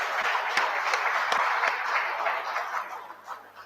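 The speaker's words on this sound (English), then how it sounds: "Please give him a big round of applause." An audience applauds a speaker at a talk on the future of employment, a broad wash of clapping with a few sharp individual claps standing out, fading toward the end.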